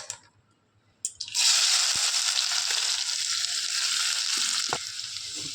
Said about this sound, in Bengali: তেলটা তো গরম হয়ে গেছে এখন তেলের মধ্যে আমি পেঁয়াজ